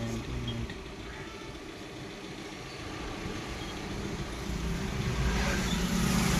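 Traffic backed up at a closed railway gate on a narrow road, a low steady rumble of idling car engines nearby that swells louder toward the end, with a voice speaking briefly over it.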